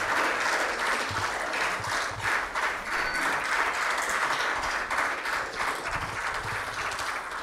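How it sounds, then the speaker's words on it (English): Steady audience clapping fills a ceremony hall at an MOU signing event, a dense continuous patter of many hands sustained throughout with no break. "Please continue clapping as we can now felicitate our guests"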